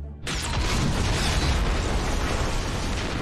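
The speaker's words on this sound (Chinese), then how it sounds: "却被自己人埋设的炸药炸死了。" Buried explosives detonate in a WWI trench-warfare battle film with a sudden, loud blast. A sustained roaring rumble and debris fill the following three seconds.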